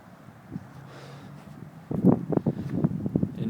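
A breeze gusts across the microphone in Sacramento, near a 1970 Volkswagen Westfalia camper bus: a soft, low rumble at first, then stronger buffeting blasts that thump and flutter close to the mic.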